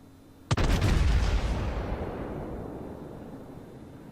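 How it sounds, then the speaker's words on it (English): The main guns of the battleship Amagi in World of Warships fire a single loud, deep salvo, a sharp crack that turns into a long, rolling boom and fades over a few seconds. "I'm going to try to bring all my guns around. Take shots at them."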